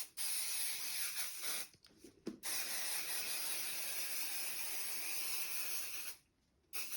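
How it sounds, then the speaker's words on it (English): Spray basting adhesive hisses steadily from an aerosol can onto quilt layers, a close continuous spray broken by a few short pauses and cutting off near the end. "if you're using spray basting"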